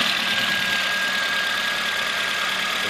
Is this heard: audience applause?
no